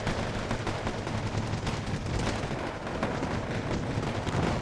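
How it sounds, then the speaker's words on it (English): Dense, continuous small arms gunfire from the Wargame Airland Battle video game, a steady crackle of overlapping shots and bursts with distant artillery-like thumps throughout, no voices. "So much small arms fire"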